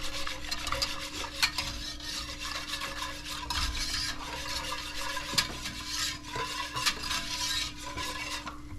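A whisk stirs two packages of vanilla pudding mix in a pot on the stove over medium heat, making a steady, close, scraping swish that goes on without pause and without talking.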